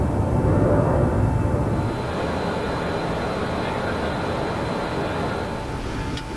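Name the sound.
cargo plane flying after takeoff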